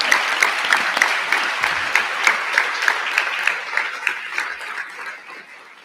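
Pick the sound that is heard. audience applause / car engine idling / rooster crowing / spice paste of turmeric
audience applause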